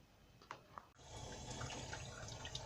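Potatoes washed under running water at a kitchen sink, a couple of light knocks before the tap opens into a steady splashing stream close by.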